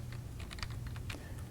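Computer keyboard typing as a file name is entered, a quick run of crisp key clicks heard close and alone over low background hum.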